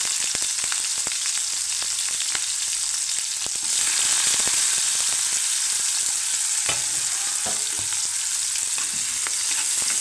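Chopped onion sizzling in hot oil with mustard seeds and cumin for a brinjal and pea gravy, a steady close frying hiss with occasional stirring clicks, no voices.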